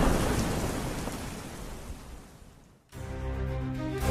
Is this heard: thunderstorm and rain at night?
yes